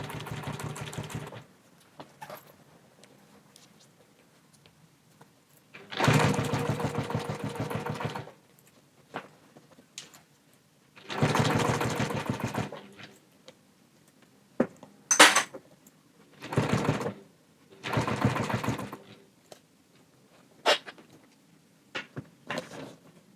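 Domestic sewing machine stitching in several separate bursts of a few seconds each, a fast buzzing whir with quiet gaps between runs and occasional small clicks and clatter, close and moderately loud with no talk.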